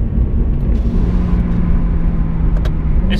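Mercedes-AMG C63 driving on a dual-lane road, a steady deep engine and exhaust drone with a low constant hum heard from inside, loud and continuous without speech.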